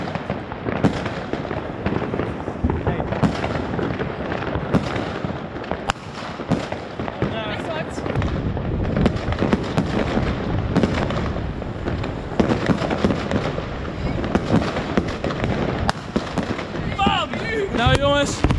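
New Year's Eve fireworks bursting everywhere in a Dutch neighborhood, a dense, continuous barrage of crackles and bangs near and far, with a few whistling rockets near the end.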